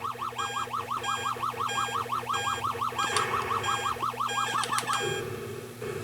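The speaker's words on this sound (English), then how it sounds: "the warbling ship sound is good, which is nice." Warbling enemy-ship tone from a 1979 Atari Asteroids arcade machine under repair, a rapid repeating rise-and-fall electronic wail at steady loudness, with a few sharp bright blips cutting in near the middle.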